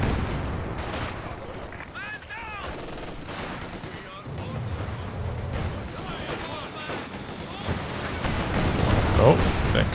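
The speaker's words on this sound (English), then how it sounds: "Mortar barraging the Ostheer mortar back the other way" Mortar barrage in Company of Heroes 2, a real-time strategy battle: scattered explosions and bursts of gunfire crackle through the clip beneath a voice commentating, with the battle noise growing louder near the end.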